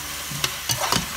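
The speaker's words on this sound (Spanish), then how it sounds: "Removemos, bien removido." Paprika-coated callos with ham stirred in a frying pan, a couple of short scraping strokes over a soft steady sizzle, close and fairly quiet.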